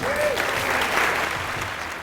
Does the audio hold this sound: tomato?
no